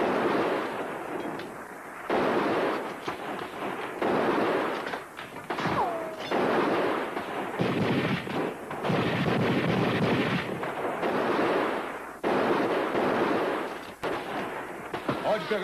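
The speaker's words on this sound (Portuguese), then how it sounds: "Vamos, comece a atirar." Gunfire in a dubbed western film: repeated loud rifle and pistol shots in irregular bursts and volleys with echoing cracks, some overlapping, with brief pauses between exchanges.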